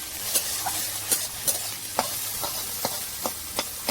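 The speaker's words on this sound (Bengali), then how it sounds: "ডিম তরকা করবো তো তার জন্য ডিমটা ভেজে নিচ্ছি" An egg frying in oil in a home kitchen wok, a steady near sizzle broken by a string of sharp spatula scrapes and taps about every half second, with no talking.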